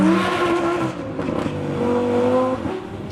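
Tuned Lamborghini Huracán V10 LP580-2 accelerating hard on a track, a loud, close engine note climbing steadily in pitch through the gears with a brief dip at a shift before pulling again.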